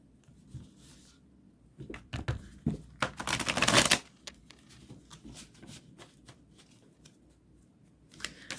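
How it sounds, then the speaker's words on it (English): Tarot cards being shuffled with quick papery riffles and taps, building to a dense burst of rapid flutter midway, then softer scattered handling. "Here, let's shuffle these."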